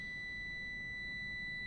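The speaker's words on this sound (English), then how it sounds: "It's beeping right now because I'm plugged into the wrong thing for that." An amp probe meter plugged into the wrong jack emits a continuous high-pitched electronic tone, steady and fairly quiet over a low background hum.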